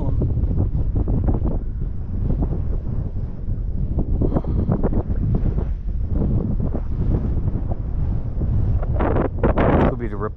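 Strong gusting wind buffets the microphone continuously while fishing for snook from a boat on open water, a loud, rough roar with occasional talk mixed in.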